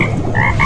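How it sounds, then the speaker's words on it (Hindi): A cartoon frog croaks in water, short loud bright croaks repeating quickly over a soft watery background, close and alone. "तभी पीछे पानी में हल्की टर टर की आवाज हुई।"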